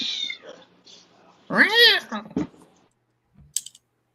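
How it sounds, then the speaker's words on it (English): A house cat meows inside a home, a short call followed by a louder, drawn-out rising and falling meow and a brief third cry, with faint clicks and quiet gaps between. "Apparently that stupid cat came in the house again."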